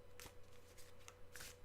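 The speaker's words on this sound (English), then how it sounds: "shuffling the cards" Tarot cards riffle and slide in brief, soft bursts, a few quick shuffling strokes close by over a faint steady hum, with no talk.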